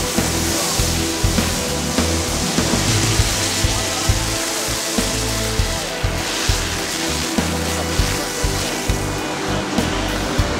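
A firefighters' hose sprays water under strong pressure, producing a loud, continuous hissing rush that carries faint periodic knocks throughout.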